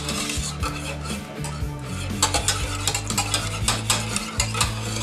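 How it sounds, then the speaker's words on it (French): A spoon or whisk works through a béchamel sauce for spinach lasagna in a pan, giving a steady scraping stir over a soft bubbling hiss. A tonal musical backdrop runs underneath. "Ne pas oublier de bien mélanger aussi dans les angles"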